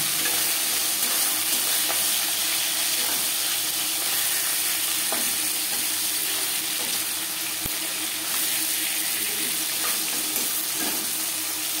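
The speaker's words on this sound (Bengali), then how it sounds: "মাছ ভাজা হয়ে গেছে" Bhangor fish sizzling steadily in hot oil in a pan, a dense continuous crackle with a few soft clinks of a utensil, no voices.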